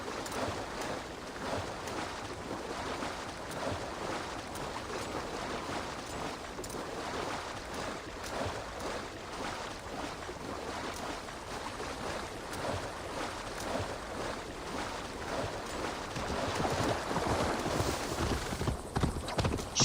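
A horse in Assassin's Creed Valhalla moves with rapid rhythmic hoof clops and splashing through water, a steady galloping cadence that grows louder near the end.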